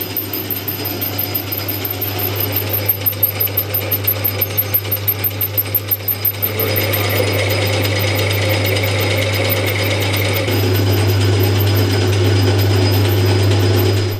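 A metal lathe machining a steel rod end for an E46 swaybar conversion: a steady loud mechanical drone with a fast rhythmic rattle in the first half, then a smoother continuous whine, alone without talk.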